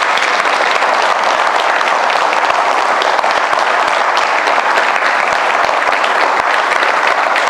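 Loud, sustained applause from a large audience at an inspirational speech event, a continuous wash of many hands clapping with no speech on top.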